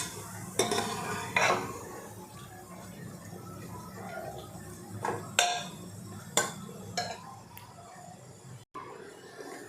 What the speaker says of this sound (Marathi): हे असंच हलवत राहत डाळ आणि गूळ एकत्र असं एकजीव होईपर्यंत असं शिजवून घ्यायचं.